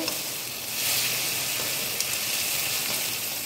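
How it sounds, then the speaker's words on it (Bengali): Onion, green chili, ginger and tomato fry together in a pan, giving a steady, even sizzle that holds close and unbroken with no talking. "এখানে আমার পেঁয়াজ, লঙ্কা, আদা, টমেটো সব ভাজা হচ্ছে।"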